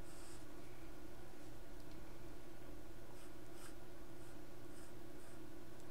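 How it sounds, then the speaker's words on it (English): A pencil sketches a banana on paper, giving soft, continuous scratchy strokes with short brighter scrapes, close up and quiet with no talking. "So right now we're sketching."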